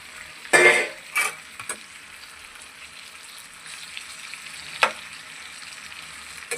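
Prawns fry in masala in a pan with a soft, steady sizzle, broken by a few sharp louder bursts as they hit the hot oil and are stirred.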